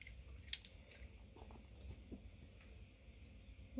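A dog chews food up close with soft crunching bites and wet squishy mastication, quiet and irregular, ending in a slightly louder bite.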